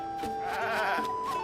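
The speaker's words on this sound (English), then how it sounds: "There's some funny goats here and some chickens." Goats bleat at a stable in the video game The Legend of Zelda: Tears of the Kingdom, a sustained wavering call held close and clear over a soft steady background for about a second and a half.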